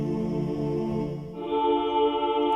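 Omnisphere 2 synth patch with an inverted key-tracked filter: a sustained, bright buzzy tone that shifts partway through to a higher note with a duller, more muffled timbre, held at steady volume.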